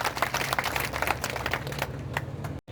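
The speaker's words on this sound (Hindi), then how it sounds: "सुश्री उषा ठाकुर जी के लिए जोरदार तालियां इस मंच से" Crowd applause for minister Usha Thakur at a public development foundation-stone event in Manasa: steady, dense clapping from many hands that thins out and fades near the end.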